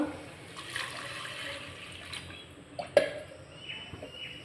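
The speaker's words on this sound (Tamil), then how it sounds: "இப்போ இதில் ஒரு டம்ளர் தண்ணி ஊற்றிக்கலாம்" A tumbler of water is poured into a pan of tomato masala while cooking pasta, giving a soft, steady splashing pour with faint background noise and no talk.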